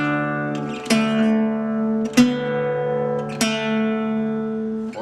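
Acoustic blues guitar notes from a lesson on a song, four plucked notes including a double stop on the top string, ringing clearly alone at moderate volume with sustained overlapping tones.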